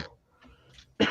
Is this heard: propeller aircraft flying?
no